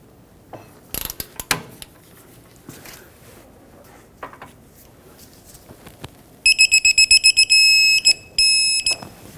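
A torque wrench tightens the front axle nut on a 2006-2010 Hyundai Sonata: a few scattered ratchet clicks and clanks, then a loud run of rapid electronic beeps near the end.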